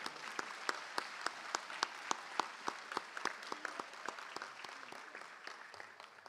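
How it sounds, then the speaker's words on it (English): Applause at a school board meeting honoring all-region athletes: a steady round of sharp, distinct claps from a modest crowd, fairly even in rhythm, fading slightly toward the end, with no talking over it. "we'll join him in giving you a round of applause"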